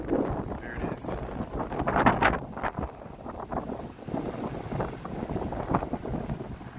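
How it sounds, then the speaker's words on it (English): Gusty wind buffets the microphone on a Chicago downtown street near Clark Street, a steady broadband rush with swells, while faint city traffic hums beneath. "The wind's picking up today."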